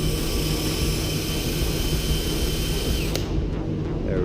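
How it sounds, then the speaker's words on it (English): A power wire wheel scours a structural weld in a steady, loud, close whir that cuts off abruptly near the end and leaves a faint fading hum. "Hit it once with the wire wheel. Try and get the weld as clean as possible."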